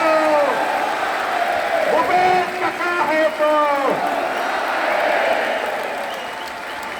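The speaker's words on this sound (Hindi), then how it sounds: "एक बार आप सब अपन पैर खड़े होकर माननीय मुख्यमंत्री जी का ताली बजा के सम्मान कर दो" A seated crowd at a Chhattisgarh teachers' gathering applauds the Chief Minister, a steady wash of clapping with a few whoops, while someone speaks over it on a loudspeaker before the applause fades out.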